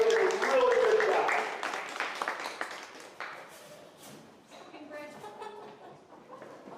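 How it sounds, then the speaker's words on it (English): A crowd at the Waseca County poultry show gives a round of applause for a junior poultry showmanship placing. Dense clapping starts loud and thins out over a few seconds, with a voice talking over it. "Let's give him a round of applause."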